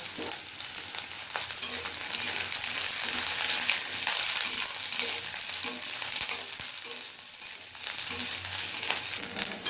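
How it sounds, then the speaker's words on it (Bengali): Chopped medium onion fries in hot oil in a pan after potatoes, making a loud, dense, continuous sizzle with occasional stirring scrapes, close by and with no talking. "পেঁয়াজটা হালকা লাল হয়ে আসা পর্যন্ত ভেজে নিয়েছি"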